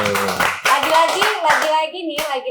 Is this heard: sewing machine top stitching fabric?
no